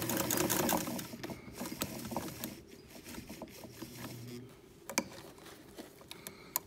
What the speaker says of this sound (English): So we're going to start sewing.